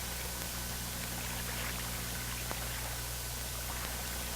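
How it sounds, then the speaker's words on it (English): Clear water poured to rinse mud from the barrel, chamber and receiver of an M16A1 rifle in the field, a steady close trickle and splash under a constant low hum, with no talking. "If clear water is available, use it to wash these areas."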